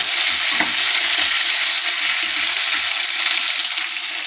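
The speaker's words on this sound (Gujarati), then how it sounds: "હવે આપણે આ મરચાંને મીડિયમ ટુ ફાસ્ટ ફ્લેમ પર આવી રીતે હલાવતા રહે અને સાંકળી લઈએ" Green chillies frying over a medium-to-high flame while being stirred in a pan, giving a loud, continuous sizzle with faint scraping beneath it throughout.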